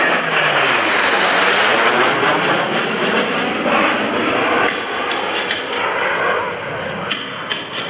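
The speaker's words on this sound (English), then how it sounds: "Blue Angels 5 and 6 are approaching the flight line in a line abreast formation" A pair of US Navy Blue Angels jets makes a fast pass in line abreast formation at an air show. A loud, broad jet roar sweeps through with a strong falling Doppler tone and fades slowly afterward.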